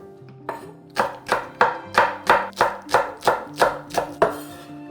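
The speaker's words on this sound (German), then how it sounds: "eine in grobe Stücke schneiden" A knife chops spring onion into coarse pieces on a cutting board, about ten loud, evenly spaced thuds ringing close and clear, with no talk.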